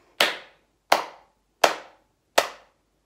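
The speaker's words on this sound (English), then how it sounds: "We'll try a clap first. So we'll do four together." Four sharp hand claps spaced evenly about three quarters of a second apart, crisp and close in a quiet room during a clog dancing lesson, with silence between each.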